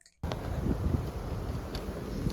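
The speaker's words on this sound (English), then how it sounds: "It's fucking windy." Sudden onset of strong wind buffeting the microphone, a low continuous rumble and roar that stays loud throughout.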